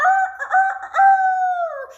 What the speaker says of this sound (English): standing on the fence just outside the farm was a rooster, and he was crowing and crowing and crowing